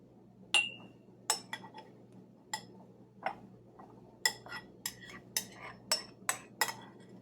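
A metal spoon clinks against glass jars while chia pudding is scooped and divided between them, giving about a dozen sharp, bright taps close by, spaced irregularly and then quickening toward the end, with no talking.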